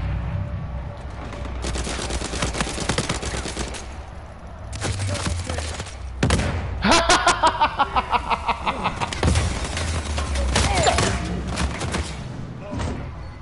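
P90 submachine gun fire in an online shooter game, rapid bursts of loud close automatic shots repeating across the clip, with excited players shouting between volleys.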